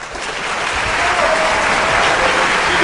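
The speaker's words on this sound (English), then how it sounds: "She deserves a clap for that one." A steady wash of applause, or of a clapping sound effect, fills the whole stretch at an even loudness. The sound is broadband and hissy, with no talking over it.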